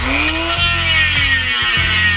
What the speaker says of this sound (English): I sliced it up with a narrow rotary tool bit and then switched to the drum sanding bit to clean it up a bit